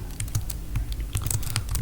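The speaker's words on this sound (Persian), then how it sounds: "اینجا تمام موضوعاتی که میخوایم تایپ میکنیم و بعد کنترل دی رو میزنیم" Computer keyboard typing Linux commands, a quick irregular run of close, crisp key clicks and taps with no speech.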